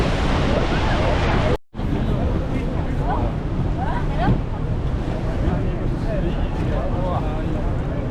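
A tour boat ride at the Rhine Falls in Switzerland, with loud rushing water and wind buffeting the microphone throughout, a brief dropout early on, and faint voices mixed into the roar.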